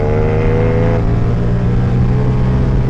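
A Ducati Diavel V4 motorcycle engine fitted with an Akrapovic exhaust, running loud and close with a deep, throbbing rumble and a brief rise in revs at the start.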